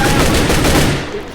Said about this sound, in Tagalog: Baril lang Baril lang yan